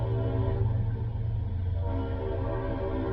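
A train rolls past with a loud, sustained low rumble and a long, steady horn tone held throughout, close and dominant, with no voices.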